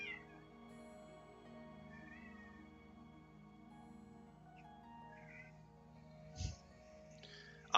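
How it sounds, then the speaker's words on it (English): Two cats fight in the video game The Elder Scrolls IV: Oblivion Remastered, trading faint drawn-out yowls and meows over a quiet background, with a dull thump and a sharper cry near the end. "I'm watching these two cats fight."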